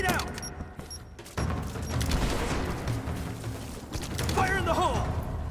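A grenade explosion in Rise of the Tomb Raider, with a sudden loud burst followed by sustained rumbling combat noise and clattering, while someone speaks over it.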